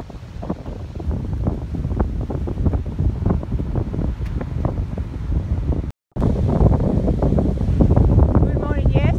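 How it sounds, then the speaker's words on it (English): Strong gusty wind buffets the microphone outdoors in a loud, continuous roar, with a brief dropout partway through before the blustering resumes. "It's a windy day,"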